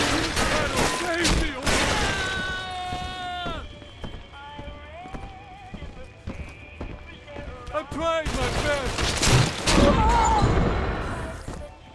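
Anti-personnel rounds fired in BioShock 2 produce a run of loud, rapid shots with gaps between them, mixed with talking and other game sounds.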